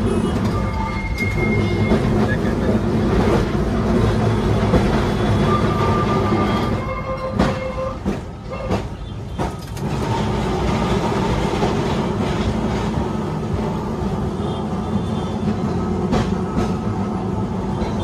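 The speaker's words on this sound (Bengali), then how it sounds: "ট্রাম চলতে শুরু করে দিয়েছে।" A Kolkata tram rolls along its rails with a steady, loud rumble and rhythmic wheel clatter heard from on board, easing briefly midway before running on unbroken.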